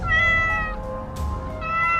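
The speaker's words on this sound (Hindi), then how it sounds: "एक बिल्ली का बच्चा बैठा आवाज कर रहा था" A kitten meows twice, a clear, fairly close high-pitched cry followed by a short pause and then a second one.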